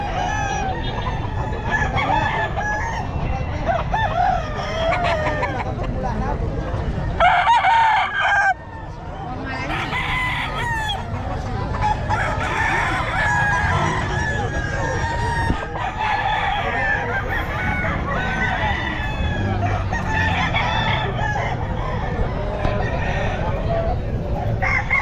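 Young roosters, stags at the Bocaue pet market, crow loudly and repeatedly over dense clucking and a steady market din, with voices murmuring in the background.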